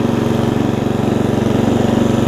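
Engine of an older Murray riding mower with a governor issue, running steadily at a loud, close, throbbing idle with an even pulsing rhythm throughout and no voices.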